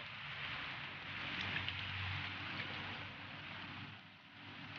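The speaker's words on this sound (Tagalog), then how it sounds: "Umuulan ngayon." Steady rain falling outdoors, a soft, continuous hiss with faint wind-like rumble underneath, evenly spread and not very loud, with no voices.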